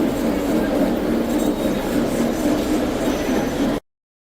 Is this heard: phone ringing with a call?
no